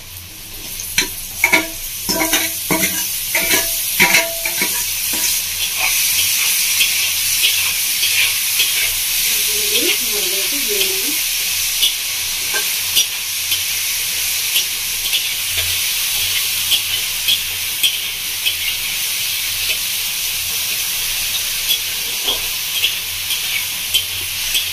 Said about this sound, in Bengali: ভালো ভালো করে মাশরুমটাকে ভেজে নেবো।